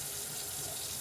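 Running water streams steadily from a kitchen tap into the sink while dishes are rinsed, a continuous close hiss with no voices.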